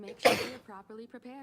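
One short, sharp human sneeze bursts out loudly, then a person speaks immediately after it.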